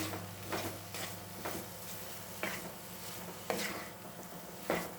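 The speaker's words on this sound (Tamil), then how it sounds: "இந்த மீன் மேக்கரை இதோட சேர்த்துடலாம் சேர்த்து நல்லா மிக்ஸ் பண்ணிக்கோங்க" Soaked meal maker being stirred into masala in a pan, faint, quiet scraping strokes at an irregular rhythm over a low sizzle. No talk is heard.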